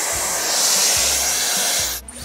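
Dyson Airwrap and Shark hair stylers blow a steady, breathy rush of air close up, with faint low thumps underneath, then a sudden drop near the end as the airflow changes.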